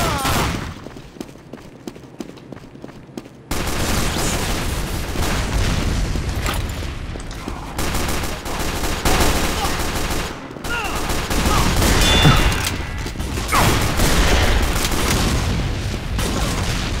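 Sustained gunfire in the shooter game Team Fortress 2: rapid volleys mixed with heavy booms and thuds, loud and nearly unbroken after a quieter opening, with occasional voice chatter underneath.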